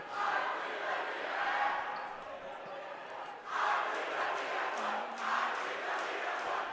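Crowd cheering and murmuring fills a high school boys basketball gym between Ellwood City and Riverside during a free throw, a steady roar that swells twice in loud bursts.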